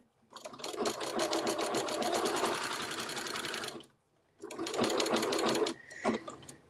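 A sewing machine fitted with a walking foot stitches through a quilt in two loud, steady bursts of rapid mechanical chatter, separated by a brief pause and followed by a short whir at the end.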